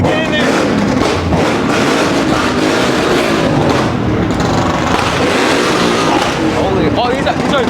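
Ford Mustang engine revving loudly at a revving contest, a dense continuous roar amid a crowd, with people talking and shouting over it throughout.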